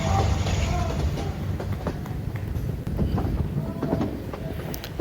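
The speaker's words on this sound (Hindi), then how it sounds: "ट्रेन ने दोबारा स्पीड पकड़ लिया" Awam Express train heard from on board as it runs and picks up speed, with steady rattling and clacking of wheels on track, occasional knocks and faint voices in the background.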